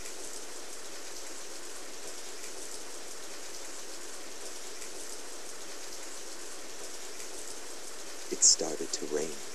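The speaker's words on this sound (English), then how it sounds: "It started to rain." Steady hissing rain fills the Radiant Historia game scene, a continuous even wash of downpour, with a brief sharp blip and some faint activity near the end.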